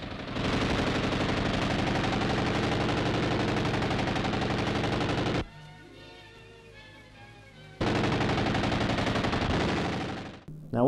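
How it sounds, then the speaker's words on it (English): A .303 British BREN Mk.3 light machine gun fires long, loud bursts of rapid automatic shots at close range, breaking off for a couple of seconds, then firing again before stopping abruptly. "the BREN, a nasty little Spitfire that can spew out bullets at the rate of 480 rounds a minute"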